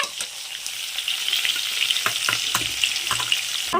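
Cumin seeds and onion sizzle steadily in hot oil as a home chicken curry gets started, with occasional sharp clicks of stirring over the constant close frying hiss.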